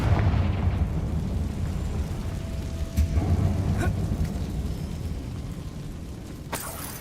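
A Confringo blasting spell goes off inside a closed mine tomb in Hogwarts Legacy. It gives a loud, rumbling burst that rolls on as a dense roar, with a sharper crack near the end.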